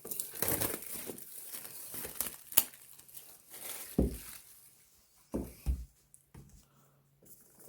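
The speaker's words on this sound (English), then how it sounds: "So here is a peel tab." Tear tab peeled off the box of an Apple iPad Air 4 (2020), close, quiet crinkling and tearing of paper and plastic in short bursts with pauses between.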